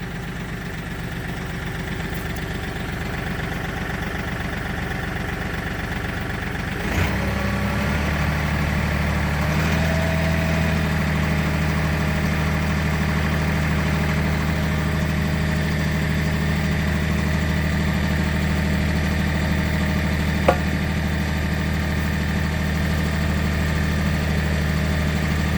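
Bobcat CT4050 compact tractor engine running a log splitter, idling steadily before rising to a higher, constant drone around 1,500 RPM and holding there, close and continuous.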